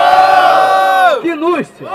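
A rap battle crowd at the Batalha do Tanque in São Gonçalo roars and whoops for an MC, a loud sustained shout that breaks into rising and falling yells, close and energetic.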